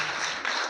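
Brief, dense clapping from a group at a girls' school event, a steady, moderately faint wash of many hands under less than a second.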